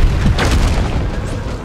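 A grenade explodes in the video game Deep Rock Galactic, a loud deep boom that fills the moment and rolls off into a sustained rumbling tail, with no voices over it.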